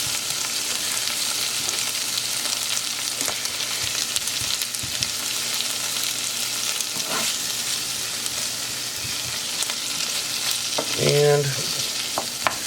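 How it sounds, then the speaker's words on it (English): Onions and peppers sautéing in a pan, a continuous close sizzle with occasional stirring scrapes and a brief clatter near the end, while a voice says a single word. "this is pretty much sauteed, folks. Just wanted to get the onions clarified, get a little bit of a soften on the peppers"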